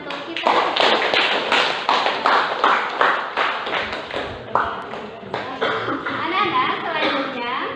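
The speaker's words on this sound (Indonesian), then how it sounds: "tepuk tangan untuk kita" A classroom of children giving applause, a rhythmic patter of clapping hands, loud and close, with some voices mixed in.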